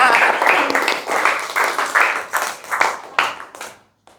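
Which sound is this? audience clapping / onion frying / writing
audience clapping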